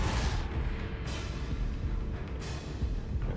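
Spell blasts from Bombarda and Confringo in Hogwarts Legacy hit as dense, booming broadband bursts. Three heavy impacts land about a second apart and blur into a continuous rumbling wash, with no talking.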